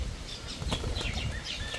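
A pigeon released from the hand takes off flapping its wings. A close burst of fluttering wingbeats carries throughout, with faint chirps in the background and no talking.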